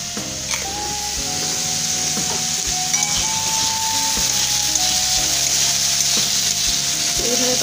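Papad fries in hot oil in a pan with a continuous, even sizzle and faint bubbling, plus a few light knocks, and no one speaks.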